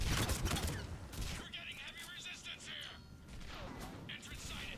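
Gunfire in Mass Effect 3 Legendary Edition comes in rapid bursts of shots, with clattering mechanical effects and a whirring energy tone. A voice talks faintly underneath.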